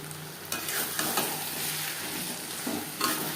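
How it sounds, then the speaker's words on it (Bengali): Fish oil and spices being stirred in a pan for a Bengali fish-oil chorchori, a steady sizzle under repeated scraping strokes of a spoon, close and moderately loud with no talk. "মশলার সাথে মাছের তেল বেশ ভালো করে মিক্স করে দেব।"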